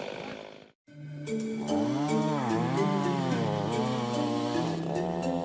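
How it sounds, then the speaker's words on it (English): A chainsaw cuts through timber during selective tree felling in Northern California, its engine revving loud and close with rising and falling pitch, after a brief gap near the start. "Using chainsaws and timber cutting machines,"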